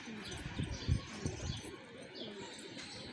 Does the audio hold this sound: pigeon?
yes